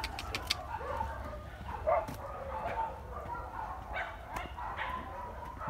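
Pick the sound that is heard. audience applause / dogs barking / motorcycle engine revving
dogs barking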